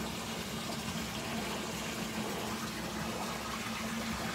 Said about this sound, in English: So then from the tubs, comes down into a sump tank